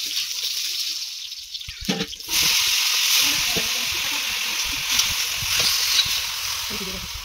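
Onions frying in a pan for a vegetarian dish, a steady loud sizzle that starts abruptly after a quieter moment and then hisses on continuously, with faint clatter underneath.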